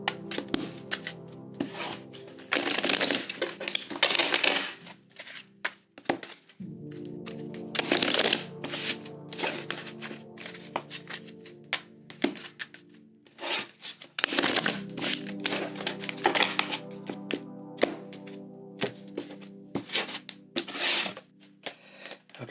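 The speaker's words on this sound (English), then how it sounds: "we're going to do 3 shuffles" Tarot cards being shuffled by hand in three rounds, bursts of rapid crisp riffling and soft slapping separated by short pauses, close and clear with soft background music.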